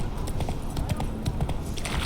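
Horse hooves galloping in The Witcher 3, a rapid, steady clip-clop rhythm of hoofbeats over a continuous low rumble, close and fairly loud.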